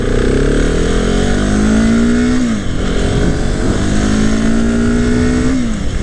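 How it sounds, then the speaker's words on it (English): A 2018 Husqvarna 701 Supermoto motorcycle accelerating hard, its single-cylinder engine roaring loud and close as revs climb steadily, dip at a gear change, then climb again. "it pulls so hard, this bike"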